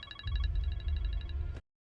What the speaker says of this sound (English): Every time I'm triggered by Hank's ringtone